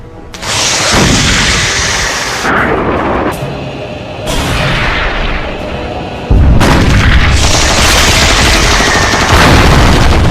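Heavy gunfire and booming blasts rage through a battle scene in a Hollywood action film, as loud, dense bursts of shots and explosions come in waves with no pauses or voices.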